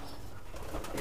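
Madrasi highflyer pigeons in a loft coo softly and continuously in a brief, low murmur.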